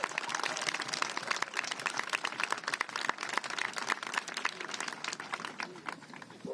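Audience applause at a gathering of local leaders, steady dense clapping from a crowd, moderately loud and continuous with no talk over it.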